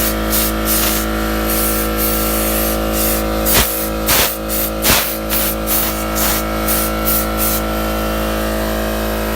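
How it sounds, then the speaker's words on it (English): An aerosol can sprays paint onto a homemade soccer World Cup sign, giving a loud, steady hiss with a few brief bursts of sharper spray partway through. "Give it another spray."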